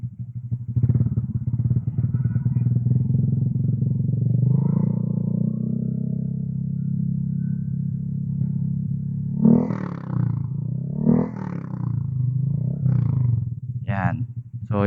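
A Honda Click 150i V2 scooter with a V-Lane aftermarket exhaust revs up from a deep close drone, rising and falling in a few throttle blips, while someone speaks over the later part.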